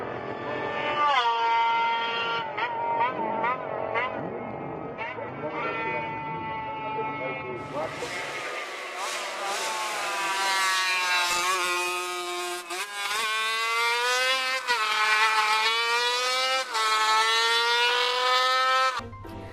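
A Honda RC166 four-cylinder racing motorcycle engine revs hard and high, rising and falling in whining sweeps, with a rough mechanical rasp beneath; the pitch climbs again and again as the throttle is blipped, loud and close.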